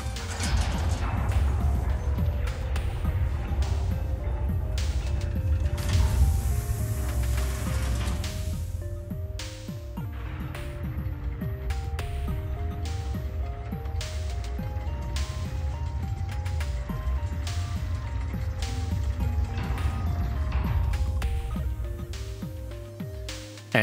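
Freight elevator rising in the Star Citizen game, a long mechanical rumble with repeated clanks and rattling clicks over a heavy low hum, steady and close for the whole stretch.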